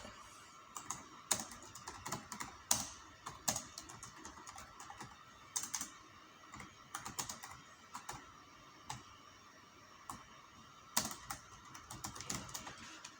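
An address is typed on a computer keyboard during a Facebook profile setup, with irregular clusters of quiet, close keystroke clicks and brief pauses throughout, and no talking.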